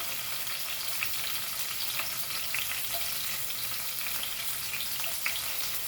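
Curry leaves and cloves fry in hot oil for a Goan beef chilli fry, making a dense, even crackling sizzle that holds steady throughout with occasional light pops.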